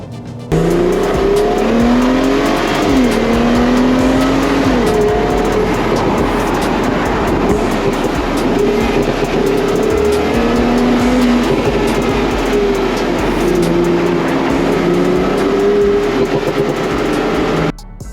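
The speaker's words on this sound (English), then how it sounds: "It's a 3-liter V6 twin turbo engine, or bi-turbo if you want to call it a bi-turbo." A tuned Mercedes-Benz C43 AMG with a 3-liter V6 twin-turbo engine and all-wheel drive accelerates hard. The engine note is loud and close, rising and falling through several gears over a long sustained run, with no talk.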